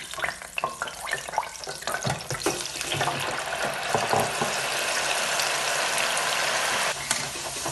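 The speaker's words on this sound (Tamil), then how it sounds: "இப்போ நான் இதுக்குள்ளே இனி உருளைக்கிழங்க பொரிக்க போட போகிறேன்." Potato pieces frying in hot oil while noodles are prepared, a steady hissing sizzle with a few clinks and stirring bumps early on, building to a continuous bubbling fry close by.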